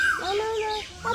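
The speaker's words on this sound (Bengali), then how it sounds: "কোকিল কেমনে ডাকতেছে দেখছেন।" An Asian koel calls in a rural village yard among trees, a clear rising whistled note repeated over about a second, loud and close, with no talk over it.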